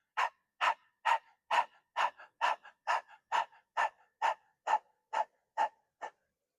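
Rapid breath-of-fire breathing from a Kundalini yoga class, with about fourteen sharp, forceful panting exhales through the mouth, evenly spaced and close-up, each a short dog-like huff with quiet inhales between.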